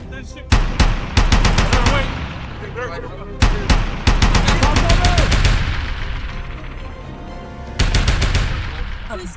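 Artillery shelling mixed with gunfire: sharp bursts of rapid automatic shots arrive in three loud clusters, each followed by heavy booming and rumbling echo, with no voices.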